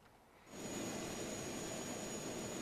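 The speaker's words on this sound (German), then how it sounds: "Mit diesem super tollen Flugzeug hier." Airplane jet engine in the video game Just Cause 2, a steady roaring whine that swells up after half a second and holds loud and constant, with no talk.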